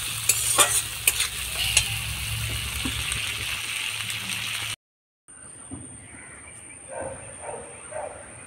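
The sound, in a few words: onion and tomato frying in a pan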